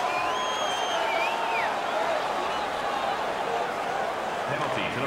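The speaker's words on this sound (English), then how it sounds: "The crowd is ecstatic." Arena crowd noise from an NHL 18 hockey video game in the Kelly Cup Finals, Toledo Walleye versus South Carolina Stingrays, a steady loud roar of cheering filling the whole stretch, mixed with game sounds.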